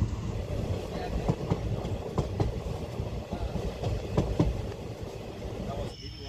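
Inside the Silchar Kanchanjangha Express running from Sealdah toward New Jalpaiguri, the carriage rumbles steadily with rhythmic clickety-clack wheel beats over the rails, while a voice talks over the noise.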